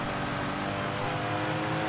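Car engines roar continuously while racing in the open-world action game Sleeping Dogs, a steady loud drone with rising revs and no voices over it.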